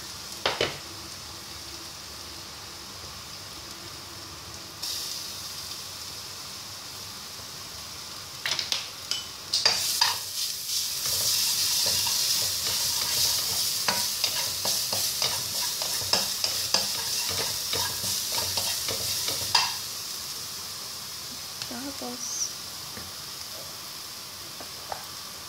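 Minced ginger and garlic sautéing in a pan, a steady loud sizzle with frequent scraping stir strokes and utensil clinks, continuing without talk.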